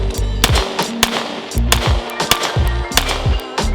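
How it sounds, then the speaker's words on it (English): Repeated Sig Sauer P365 Macro pistol gunshots at a range, about eight sharp, loud reports in an uneven rhythm, each with a short ringing tail, with no talking. "Been a good time shooting this gun for sure."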